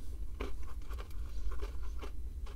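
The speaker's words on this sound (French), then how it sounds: "Je sais pas si vous entendez croustiller." Crunchy bites into a KFC Kream Ball Twix ice cream dessert with biscuit pieces, a few separate close crackling crunches spread across a couple of seconds over a low background hum.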